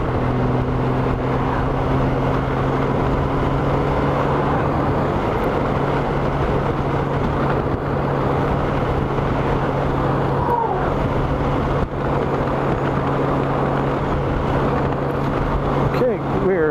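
A Honda Goldwing motorcycle cruises at a steady highway pace on cruise control, and its engine, road and wind noise form a loud, continuous drone with no break.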